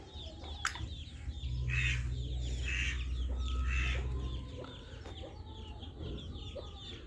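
Chickens cluck repeatedly at close range, with a rooster-like call and other farm birds chirping around them, no talking.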